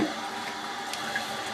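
A toilet bidet sprays water in a steady hissing jet, close and continuous for the whole short stretch.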